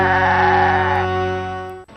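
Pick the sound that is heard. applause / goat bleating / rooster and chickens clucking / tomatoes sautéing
goat bleating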